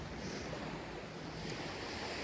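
Sea surf washing onto a beach at Sudak in Crimea: a steady, continuous hiss and rumble of breaking waves with some wind buffeting the microphone, and no voices.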